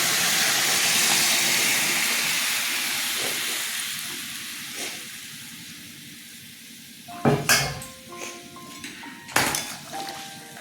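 Boiled water is poured onto eggplants in a hot pan, giving a loud steamy hiss that slowly fades, followed by clinks of utensils against the pan.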